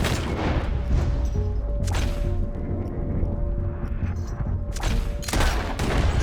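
Heavy gunfire from a Red Dead Redemption 2 shootout, with loud bursts of shots and booming blasts erupting around 1.8 and 5 seconds over a constant rumbling battle din, with no talk.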